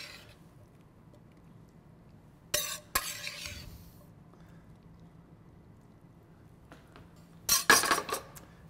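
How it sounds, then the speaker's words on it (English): A spoon clinks and scrapes against a dish while scooping chicken larb onto a lettuce leaf for a Thai salad with pinto beans. Two short clusters of light clinks sound close by, with near silence between them. "Let me go ahead and spoon some of this larb right on top of the lettuce."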